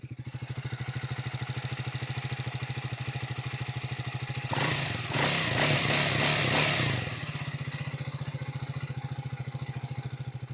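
Triumph Speed 400 motorcycle engine idling close by with a steady, fast rhythmic thrum and a faint ticking shim noise, rising briefly into a louder rev before settling back to idle.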